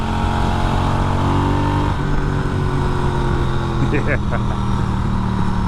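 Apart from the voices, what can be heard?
Norton Commando motorcycle engine revving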